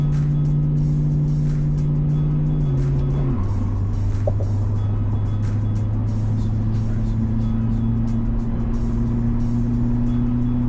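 A Ford Mustang with a Coyote engine swap and no sway bar cruising on the road, its engine droning steadily, with a brief shift in pitch early on before a sustained, even hum.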